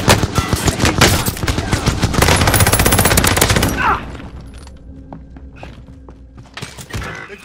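Dual akimbo shotguns fire in a Rebirth match of the video game, a loud close barrage of rapid overlapping blasts that thins out into scattered thuds and a few last shots.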